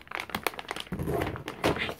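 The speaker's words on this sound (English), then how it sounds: "This plastic bag just ripped up." Plastic crinkles and rustles close by in short, uneven bursts, with a faint voice underneath.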